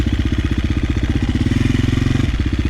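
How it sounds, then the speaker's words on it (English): A KTM 350 motorcycle engine runs close by with a steady, pulsing idle, then swells briefly as the throttle is cracked before the beat falters and cuts out near the end. "Give it a crack of the throttle here, and it died."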